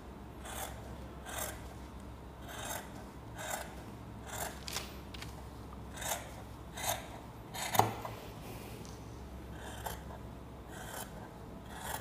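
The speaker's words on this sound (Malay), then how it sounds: "lepas tu kita gunting" Scissors cutting fabric along a sewing pattern for a sleeve piece, a series of crisp rasping snips repeating at a steady pace, close and fairly quiet, with no talking.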